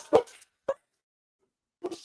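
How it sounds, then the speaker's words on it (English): A dog barks in short sharp bursts: two quick barks close together, a pause of over a second, then a third bark, fairly faint against quiet. "That may be a well-timed dog bark."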